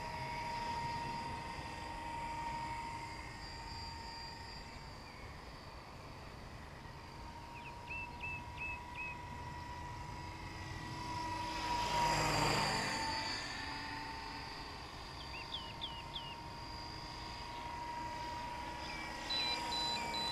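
RC model helicopter, a ready2fly Eco 7 on a 3S 5000 battery, flying at a distance with a steady whine and rotor hum that swells as it passes close overhead midway, then fades; faint beeps sound now and then.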